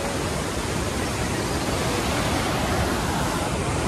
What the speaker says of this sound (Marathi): तर मित्रांनो ही नदी बघा तुम्ही, एवढ्या स्पीडने पाणी आहे इथं.